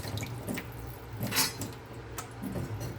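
Glass noodles for chapchae are pushed under water and rinsed, giving soft splashes and drips with a few louder sloshes, close by and without talk.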